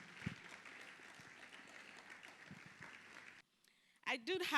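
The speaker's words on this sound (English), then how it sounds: "The agreement was that we will not stop clapping until they get on the stage." Conference audience applause, a continuous spread of clapping from a crowd at moderate level that cuts off abruptly, followed by a short burst of a voice over a microphone.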